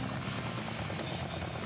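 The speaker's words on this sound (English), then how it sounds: "how you able to fit on that small ass plane, Sonic?" A small plane's engine in the Sonic Adventure video game drones as a dense, continuous roar, loud and steady throughout with no talk over it.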